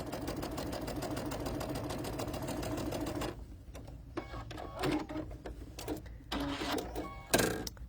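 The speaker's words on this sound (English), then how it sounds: "we are going to stitch opposite corners" A sewing machine stitching across opposite corners of a quilt block, a rapid steady mechanical whir for several seconds, then stopping and giving way to short bursts and handling noises.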